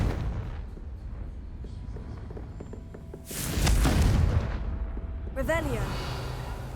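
A fiery spell blast bursts with a loud deep boom in a fantasy game, followed by a rumbling decay and a shimmering magical chime, over ambient background sound.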